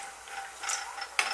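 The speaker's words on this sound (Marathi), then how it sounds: "मी आता गॅस बारीक करते." A gas stove knob being turned down, giving a quiet, brief ratcheting click and a faint mechanical scrape, with a sharper click near the end.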